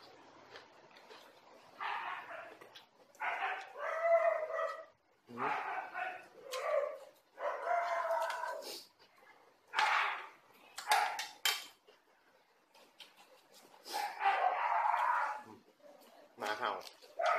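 A dog barking in bursts with yips and whimpers, repeated close barks spread across the whole stretch, with a person speaking in between.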